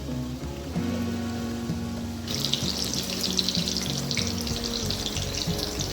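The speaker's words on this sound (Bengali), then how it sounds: "এখানে বেগুন ভাজা হচ্ছে।" Eggplant slices frying in a pan, giving a continuous close sizzle that grows brighter and more crackly midway, with a low background hum and no talk.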